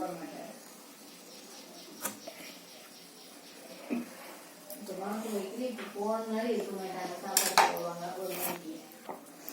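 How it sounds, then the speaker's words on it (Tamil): A knife cuts a mango in half, with a few sharp taps and clicks against the board or blade spaced through the clip, heard under a person talking. "அதுக்கு நான் மாங்காவை ரெண்டாக வெட்டிக்கிறேன்."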